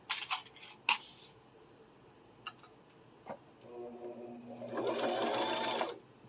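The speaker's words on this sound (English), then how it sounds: "Then we're going to flip it around and sew the other side." After a few sharp clicks and taps, a sewing machine stitches fabric for a kitchen boa in a steady, close whirring run of about two seconds.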